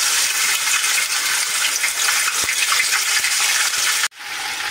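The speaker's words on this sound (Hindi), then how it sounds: "लहसुन अदरक को थोड़ा सा मैं फ्राई करके उसके बाद में उसके अंदर वेजिटेबल्स ऐड करूँगी" Garlic ginger paste fries in oil with a steady, loud, dense sizzle that cuts off abruptly near the end, then resumes more softly.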